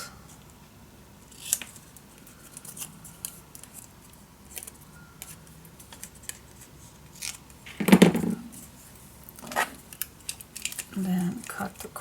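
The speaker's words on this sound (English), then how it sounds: "cut this piece of paper" Scissors snip scrapbook paper in a few sparse, crisp cuts with light paper rustling and handling clicks, close and quiet, while a person speaks briefly at moments.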